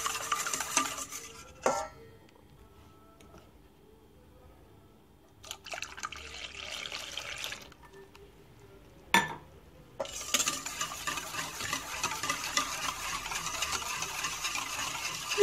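Warm milk poured over a separated egg yolk in a bowl and stirred for Turkish potato puff pastry dough, heard as light liquid trickling and scraping stirring in short bursts with pauses, close and fairly quiet.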